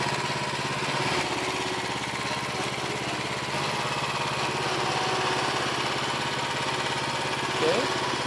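A BCS walk-behind tiller engine runs steadily at a constant, continuous drone close by in a market garden, with no other sound over it.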